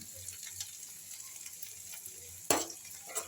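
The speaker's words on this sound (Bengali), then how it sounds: "যতটা সময় নেবে এই লাল করে মশলাটা ভাজবেন" About four spoonfuls of masala paste fry in a pan for a bhindi dish with a faint, steady sizzle, broken by one sharper stir or splash near the end.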